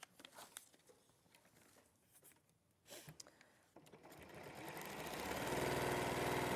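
A sewing machine stitches fabric between marked points, its motor starting up and building into a steady, continuous whir that grows louder and holds, after some quiet handling sounds.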